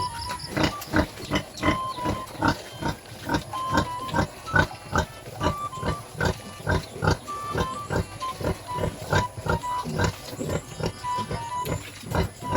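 Piglets on a farm grunt steadily and rhythmically throughout, a dense run of short, close oinks and snorts with a constant hiss-like background hum and no talking.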